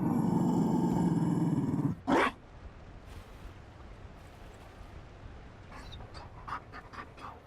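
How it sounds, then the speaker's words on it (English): A Mabari war dog pants in the video game Dragon Age Inquisition, with rapid, loud panting breaths at the start and a short burst after. Faint, brief chirps follow over a quiet background. "You found a dog?"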